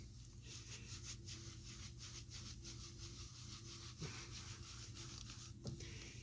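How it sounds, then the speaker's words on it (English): A cloth rubs Rubio Monocoat maintenance oil into a wooden piece, making a soft, faint, rhythmic swishing in repeated circular strokes with a couple of light knocks. "I go ahead and I rub off the excess, just kind of in circles down the edges."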